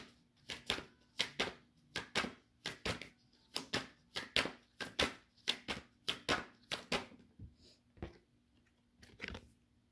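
Tarot cards being shuffled by hand: a steady, rhythmic run of sharp, close flicks and slaps, grouped in quick pairs and repeated for about ten seconds, with a brief lull near the end.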